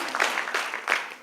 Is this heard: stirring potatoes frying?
no